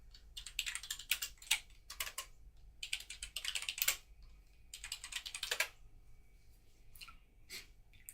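Someone types on a computer keyboard in irregular bursts of close, crisp key clicks, with short pauses between flurries and a quiet steady hum underneath.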